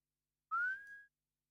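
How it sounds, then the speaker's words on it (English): A small, thin whistle sitting in a music mix rises briefly in pitch and then holds a clean tone for about half a second before cutting off, faint and alone. "I'm hearing a little whistle that I don't like."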